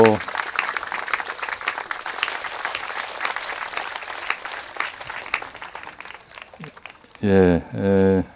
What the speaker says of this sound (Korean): 우리 어린이들에게 박수 주세요.